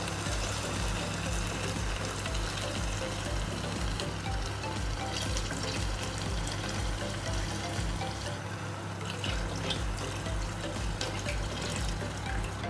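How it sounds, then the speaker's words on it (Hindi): Water, about three glasses, is poured into a cooking pot over fried chicken for chicken pulao, a continuous splashing, gurgling pour that runs steadily and close for the whole stretch. "अब हम इसके अंदर 3 ग्लास पानी डालेंगे।"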